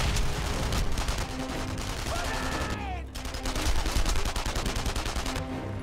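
Rapid automatic gunfire from the World War II shooter game Enemy Front bursts loudly and almost continuously, with a brief pause midway before the firing resumes.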